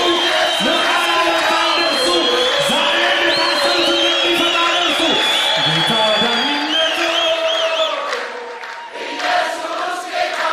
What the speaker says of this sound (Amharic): ኢየሱስ ጌታ ለወንጌል ጭብጨባ